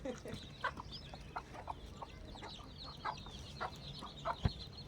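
Village chickens cluck sporadically in a farmyard, short scattered calls at moderate distance, with faint voices in the background.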